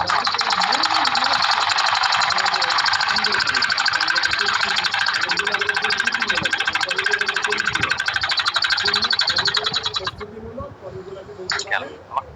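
A sewing machine stitches a double seam on a salwar, giving a fast, steady rattle for about ten seconds before stopping. A few short sounds follow the stop, and a voice is heard with the machine.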